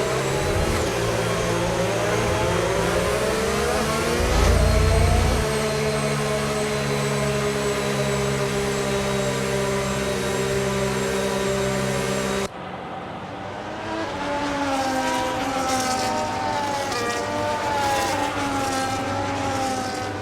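Formula 1 cars idle and rev on the starting grid before the Japanese Grand Prix in a racing video game, a loud continuous engine whine with pitch rising and falling, cutting abruptly to a second burst of revving.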